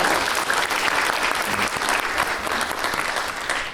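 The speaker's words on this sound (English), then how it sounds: "Can we start off by giving yourselves a round of applause for being here?" Loud, full audience applause at an Empowering Women Leaders keynote event, many people clapping together in a steady sustained roar that stays strong throughout.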